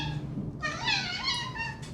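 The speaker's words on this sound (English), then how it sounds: "It's now my cat." A cat meows in a drawn-out, rising and falling call lasting over a second, close and clear against a low background hum, with a shorter faint cry at the end.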